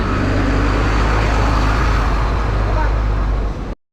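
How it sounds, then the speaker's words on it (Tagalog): Dump trucks pass along the Davao coastal road, a loud, steady rumbling engine and road roar close by, cut off suddenly at the end. "Dami pang mga dump truck na dumadaan."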